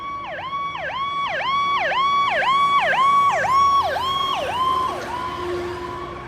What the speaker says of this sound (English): Just like the sound of a fire truck changes pitch